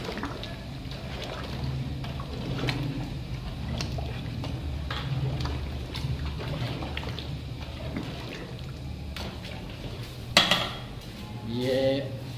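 A metal spoon stirs sugar in a pot to melt it, giving repeated close scraping and clinking against the metal, with a sharper clatter near the end.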